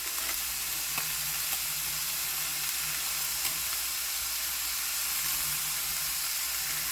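Fish sizzles in melting butter in a pan, a steady close frying hiss that runs unbroken with a few faint pops and no voices.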